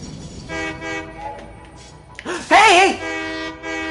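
A train horn in the Satisfactory video game sounds like an old steam whistle, a loud bright wail after shorter horn-like tones, heard on its own.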